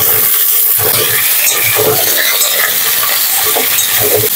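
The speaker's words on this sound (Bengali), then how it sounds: "আমি এই আলুগুলো দিয়ে দিচ্ছি। কলা ভাজা হয়ে গেছে।" Potatoes and plantain stirred and frying in hot oil in a pan, a loud steady sizzle with scraping stir strokes throughout, no talking.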